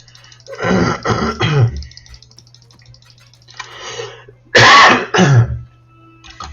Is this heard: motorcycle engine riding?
no